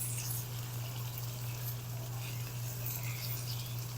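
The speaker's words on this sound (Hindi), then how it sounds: "तो गोश्त की मैं भुनाई कर लूँ" Mutton frying with onions in a kadai gives a steady, close sizzle with a constant low hum beneath it, even and unbroken throughout with no voices.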